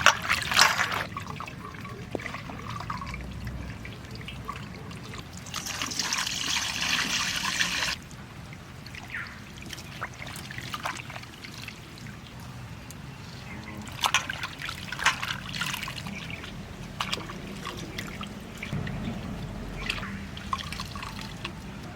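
Bottle gourd leaves are rinsed with water in a kitchen, with dripping, trickling and splashing throughout and a louder pour for a few seconds early on, soft and close.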